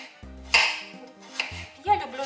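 A knife cuts potatoes into rounds on a board, giving a few sharp, close knocks and clicks in quick succession with short quiet gaps.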